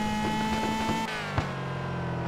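A BMW M3 in the driving game Car for Sale gives a sustained high-pitched tonal whine and screech with a steady engine drone beneath, a brief knock partway through, close and loud, with no voices.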